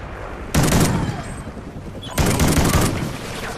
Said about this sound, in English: You gotta use a shotgun.